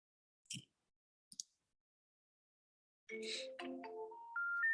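Phone call being placed: two short keypad-like blips, a pause, then a burst of rising tones like a disconnected-number intercept signal, stepping upward in pitch, clear and close with no talk.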